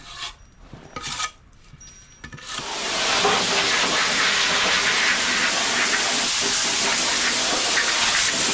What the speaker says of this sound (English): rattle from a rattlesnake on my mom's property